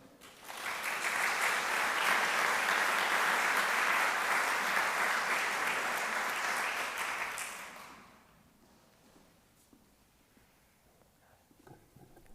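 An audience at an alumni ceremony breaks into steady applause to welcome an alumnus. The dense clapping holds loud and even for about seven seconds, then fades into a quiet room.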